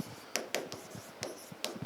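A pen scratches out a handwritten chemistry answer in short, quick strokes, close and quiet, with brief pauses between bursts of writing.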